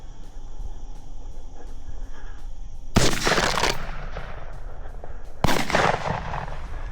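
Two loud shotgun blasts ring out during an Arkansas dove hunt, a few seconds apart, each with a sharp crack and a long rolling echo over an outdoor background.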